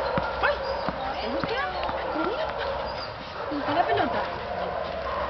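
A small dog yips and whimpers in short high bursts while people talk nearby over steady background noise.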